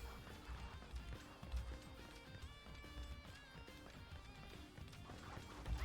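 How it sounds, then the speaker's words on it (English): A horse gallops in the video game Dynasty Warriors 8: Xtreme Legends, with quick, steady hoofbeats kept low in a busy battle mix under music and game sounds. "Horse"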